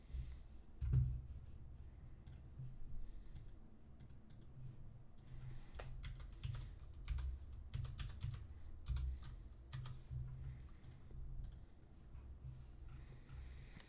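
Keys are tapped quickly to enter a probability, a mean and a standard deviation into a calculator, faint close clicks in irregular runs over a low background hum, with no talk.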